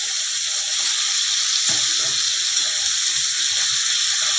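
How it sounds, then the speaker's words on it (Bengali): Shol fish fry in a pan as they are flipped, giving a loud, steady sizzling hiss with a brief clatter partway through and a voice speaking a few words. "বন্ধুরা মাছগুলোকে একটু উল্টিয়ে দিচ্ছি।"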